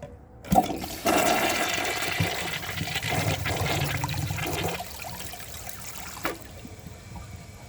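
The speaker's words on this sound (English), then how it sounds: "I'm going to see if it can do any better on a second flush." A Mansfield Alto 2000 Comfort Height toilet is flushed on a second try: a sharp click of the lever, a loud rushing flush lasting several seconds, then a softer trickle as the tank refills.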